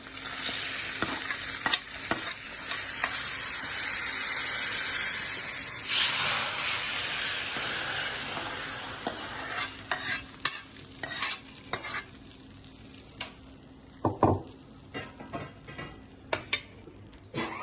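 Hot tempering is poured into tangy pachi pulusu and sizzles loudly, first as a dense steady hiss, then in spitting bursts and crackles with metal utensil clinks, close and without talk.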